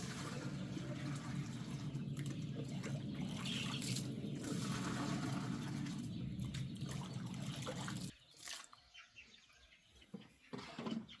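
Water pours faintly into a freshly washed pot as a steady soft trickle, then stops, leaving quieter scattered splashes and drips.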